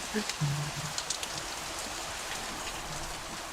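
Steady rain pours down as a dense, continuous hiss at moderate loudness, with a brief low voice-like sound near the start.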